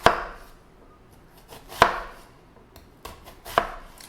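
An onion is chopped quickly with a kitchen knife on a cutting board: four sharp, close thuds spaced about every second or so, with quiet gaps between and no talking.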